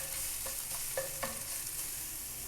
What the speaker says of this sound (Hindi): इसके अंदर 1 टीस्पून अदरक लहसुन का डाल देंगे। इसकी थोड़ी सी खुशबू आने तक इसे भूनेंगे